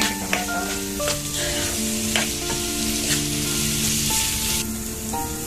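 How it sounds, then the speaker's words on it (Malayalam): Tomato frying in a pan gives a loud, continuous sizzle with repeated stirring scrapes and clinks, all close up with no voices. "ഇതിലേക്ക് നമ്മൾ എടുത്ത് വെച്ചിട്ടുള്ള ടൊമാറ്റോ ആഡ് ചെയ്ത് കൊടുക്കാം. നന്നായിട്ട് ഇളക്കി കൊടുക്കാം."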